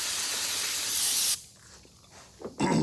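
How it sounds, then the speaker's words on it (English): A loud, close spray of cleaner onto an O-ring from a Legends race car motor hisses continuously for over a second, then stops; another short burst of spray follows near the end. "We'll take our O-ring, we'll spray it off as well."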